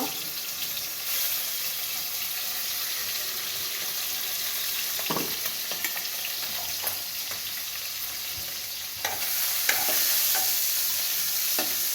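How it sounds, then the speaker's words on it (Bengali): Tangra fish frying in a pan gives a steady broadband sizzle for the whole stretch, with a few sharper scraping and stirring knocks breaking through. No voices. "তো দেখুন মাছটা ভেজে নেব।"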